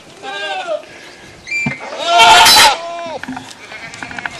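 A goat bleats in bursts near a farm fence, with a wavering cry rising over nearby talk and a short loud stretch of movement in the middle.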